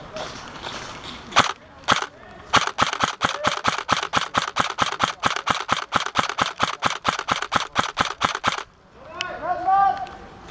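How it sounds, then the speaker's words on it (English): Rapid gunfire at an Anzio camp battle reenactment event, a long string of sharp, evenly spaced cracks fired close and loud, with a few scattered shots before and voices shouting briefly at the end. "Well, shots hit."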